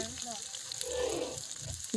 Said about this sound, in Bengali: তো আলুটা অনেক সময় লাগবে ভাজতে অবশ্যই